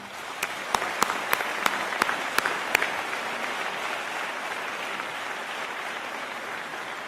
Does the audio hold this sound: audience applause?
yes